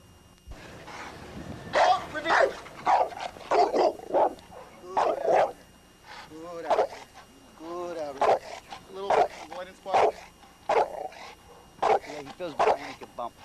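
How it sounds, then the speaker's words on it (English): A trained protection dog barks during a hold-and-bark exercise, letting out a long run of loud, close, evenly spaced barks in quick bursts with short pauses between them. "here's Hammer and a bird's eye view of the hold and bark."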